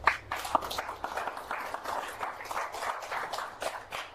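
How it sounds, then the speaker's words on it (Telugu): Audience clapping at a company business presentation on Q Life Home Marts, a steady patter of many hands spread across the whole stretch with no voices on top. "ఇప్పుడు మీరు చప్పట్లు కొట్టారు కదా"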